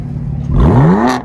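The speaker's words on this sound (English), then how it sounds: "My favorite exhaust, bro." Aftermarket exhaust on a car at a large California pop-up car meet, with E92 and F80 cars nearby, revs up loudly and close, the engine note climbing sharply after a lower idle rumble.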